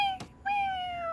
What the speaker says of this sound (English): Oh, look. This kitty came to take something.